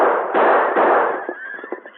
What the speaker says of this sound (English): his own guns were spitting lead